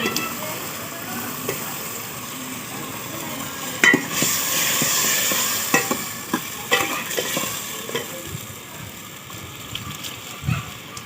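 Washed potatoes being added to a frying pan and stirred in a home kitchen, with a steady sizzle under scattered soft scraping and clinking of the spoon against the pan.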